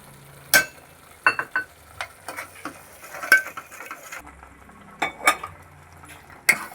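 Spiced misal being stirred in a cooking pot, with scattered scraping clinks of a spoon against metal over a faint sizzle; close and intermittent, without speech.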